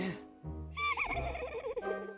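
A horse whinnies with a rising, wavering call that rings out loud and close, preceded by a brief low vocal sound.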